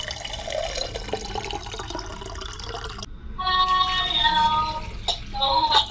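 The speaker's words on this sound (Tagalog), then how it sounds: "lagyan natin ng tubig" Water pours into a blender for a blending recipe, first a rushing splash and then a brighter, ringing gush of filling liquid with a few brief drips, close and clear with no talk.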